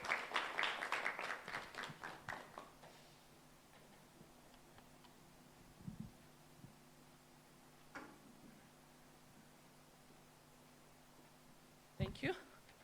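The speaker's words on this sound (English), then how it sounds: "you have to clap for the chair as she comes" A small audience at a legal association debate event claps briefly for the board chair, a handful of sharp, close claps that die away within a few seconds, followed by quiet room tone with occasional knocks and a faint voice.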